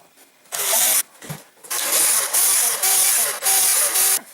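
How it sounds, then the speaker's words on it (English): A power drill bores holes into a Cessna switch panel in loud bursts, roughly five whining runs separated by short pauses, close and harsh with no talking. "Now I need to drill the actual holes"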